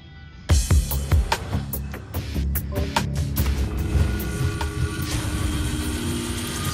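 A helicopter in the racing video game Split Second, a steady whirring rotor drone over a busy game mix of sharp impacts and engine noise, loud and close, with no talking.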